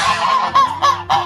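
Cartoon ducks being fed in a kitchen duck-farming scene give a series of loud nasal honking quacks, about four close bursts in quick succession with no talk.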